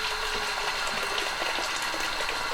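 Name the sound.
water poured out into a kettle at camp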